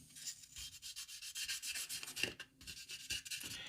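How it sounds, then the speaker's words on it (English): A PS5 DualSense controller shell is sanded by hand in short, uneven rubbing strokes, soft and close, with quiet scratchy bursts and no talk. "So I'm going to sand that a little bit more."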